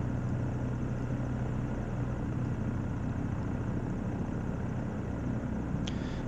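A DA40NG aircraft engine idling in a flight simulator, a steady, even drone with a low hum, continuous and close at moderate loudness, with one brief click near the end.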